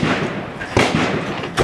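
Several sharp gunshot bangs crack outside in a Houston neighborhood, spaced irregularly over a constant noisy background, fairly loud and close.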